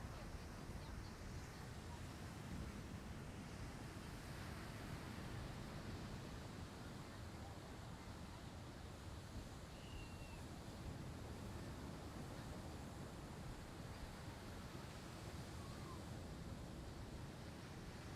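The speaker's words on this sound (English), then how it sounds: "just pay attention to the circle of life by following the sound of the ocean" Ocean waves washing onto the shore, a steady, soft, continuous surf hiss with no distinct breaks, heard faintly and alone.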